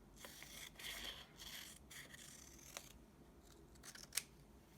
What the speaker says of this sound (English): I'm just going to cut it straight up the middle.